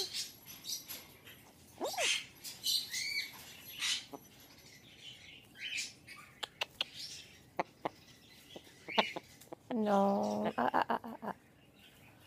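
A pet bird indoors gives scattered high chirps and squeaky calls at close range while someone speaks briefly, ending in a rapid, buzzy burst of chattering notes.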